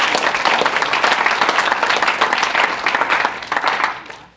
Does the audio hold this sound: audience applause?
yes